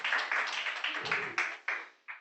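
A seminar audience at an Amway event gives a round of applause. The clapping comes in uneven bursts that swell and fade, and it tapers off over about two seconds.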